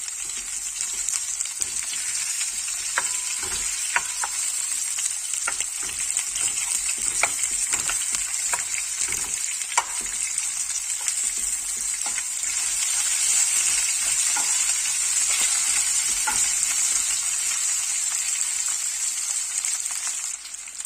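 Chopped onion frying in a pan for cucumber chutney, a steady close sizzle with a bright hiss and scattered crackles and pops throughout.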